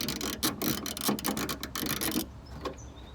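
A ratchet with an E8 socket loosens bolts on a Vauxhall Corsa VXR, giving a close run of rapid clicking strokes that stops partway through, leaving a few faint taps and quiet room noise.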